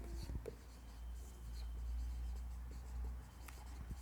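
Chalk or marker strokes scratch across a board during a chemistry lesson, faint and intermittent over a low background hum.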